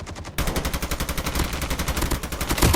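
Automatic gunfire from a first-person shooter video game rattles in a fast, even stream of loud, close shots that runs almost without a break.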